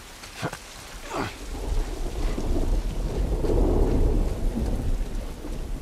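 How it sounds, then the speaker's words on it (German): Thunderstorm in The Last of Us, with two sharp close thunder cracks early on, then a sustained rolling rumble and steady heavy rain that swells and stays loud to the end, no voices. "Also das Gewitter, das hört sich ja echt geil an."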